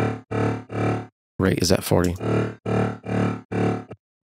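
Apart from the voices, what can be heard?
dubstep synth bass with Hyper width and LFO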